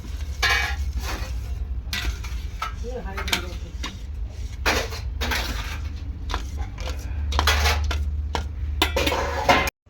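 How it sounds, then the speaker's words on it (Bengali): Lentils for khichuri being stirred in a hot pot with a spatula, making repeated scraping and metallic clanking strokes over a low hum, with a voice talking at times. "কুলতির সাহায্যে একটুখানি ডালটা নাড়াচাড়া করব"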